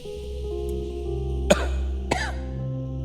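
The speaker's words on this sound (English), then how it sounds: "Cover your mouth when you cough." A person coughs two short, sharp times against a steady low hum in the background.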